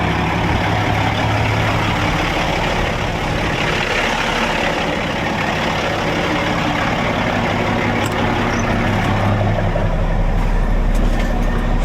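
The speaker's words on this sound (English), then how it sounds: "Alright, let's go start my pump." Truck engine with a PTO pump running on a tanker trailer, a steady heavy low rumble and droning hum throughout, loud and close with no talking.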